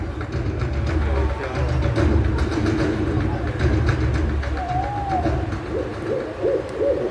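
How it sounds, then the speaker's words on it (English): Owl hooting at Jurong Bird Park during a bird show, a few soft repeated hoots rising out of a dense, rumbling crowd and machinery background. "Sounds like an owl is nearby, isn't it?"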